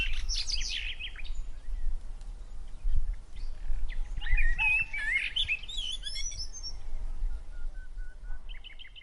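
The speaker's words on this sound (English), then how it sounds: "I also like to listen to the birds singing." Birds chirp and sing outdoors in a rapid, scattered series of high tweets and trills, fairly close and clear over a low ambient rumble, with no talking.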